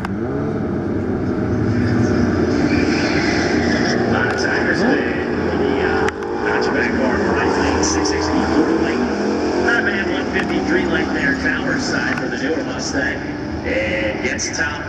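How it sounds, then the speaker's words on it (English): At a drag race at Atco Dragway, a Mustang and a Camaro roar down the track in a dense, continuous engine blare, with crowd noise and an announcer talking underneath. "Mustang vs. Camaro."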